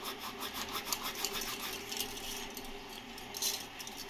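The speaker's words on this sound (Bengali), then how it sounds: "জোয়ানগুলোকে হাতে করে একটু এরকম করে ঘষে দেবো।" Ajwain seeds rubbed briskly between palms over a bowl of cauliflower pakora batter ingredients, a close, steady dry rasping and rustling with no voice.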